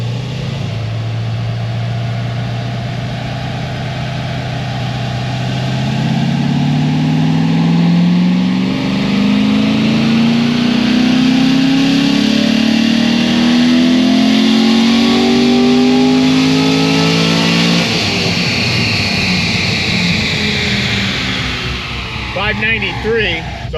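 Corvette Z06 with a heads and cam package revving on a dyno, a loud engine note climbing steadily in pitch over a long sustained pull, then dropping off abruptly, with indoor shop reverberation.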